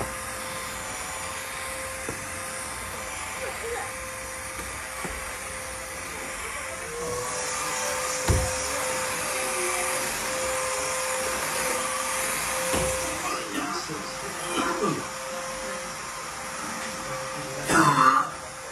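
A Redkey vacuum cleaner running continuously while cleaning a floor at home, a loud steady motor whine and airflow roar lasting throughout, with a brief louder burst near the end.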